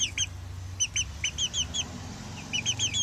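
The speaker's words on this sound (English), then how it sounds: "They've been peeping like crazy." Several chickens cluck and peep in short, repeated chirping bursts over a steady low background hum, close by and moderately loud throughout.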